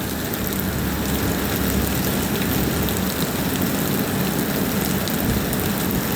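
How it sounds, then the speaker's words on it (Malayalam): Heavy summer rain pours down in Malappuram in a dense, loud, unbroken hiss that stays even from start to finish. "നല്ല മഴയാണ് നിൽക്കാതെ മഴ പെയ്യാണ്"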